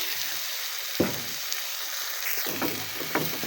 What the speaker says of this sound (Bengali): আমি আর একটু ভালোভাবে কষিয়ে নিচ্ছি টমেটোটা গলে যাবে